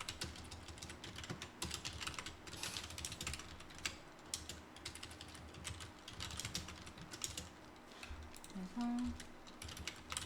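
Steady, fast typing on a computer keyboard fills the whole stretch as text is entered for a KakaoTalk channel post. The clicks are quiet and close, and a single spoken word briefly overlaps them.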